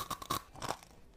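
Crunchy dry spicy noodles seasoned with lime leaf are bitten and chewed close to the mic, giving a few quick crisp crunches over about a second, fairly faint overall.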